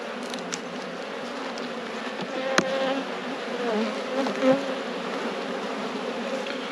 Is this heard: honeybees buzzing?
yes